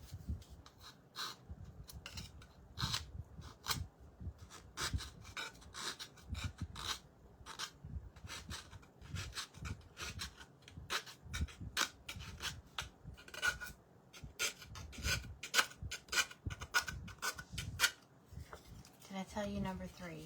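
Quick, rhythmic rasping strokes of a file, close and steady, repeat in a dense run of short scrapes, with faint voices in the background.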